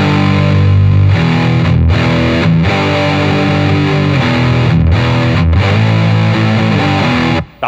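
Electric guitar played on low notes through a Bogner Ecstasy Mini overdrive pedal, giving a loud, thick, continuous distorted tone with chugging palm-muted strikes and brief breaks between phrases, ending in a sudden cutoff.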